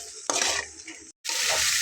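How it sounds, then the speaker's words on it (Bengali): Red lentils stir-fried in a pan, a rough rattling hiss as the spoon pushes them around, a brief pause of near silence, then the scraping sizzle resumes, close and steady, no voices. "আর খুব ভালোভাবে কষিয়ে নেব।"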